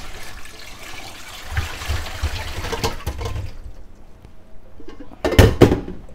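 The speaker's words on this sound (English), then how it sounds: "And pour that through. Now and get to the edge of the colander." Hot potato water from a heavy pot poured through a colander in a home kitchen, a steady close splashing gush that fades, then a brief louder slosh and spatter near the end.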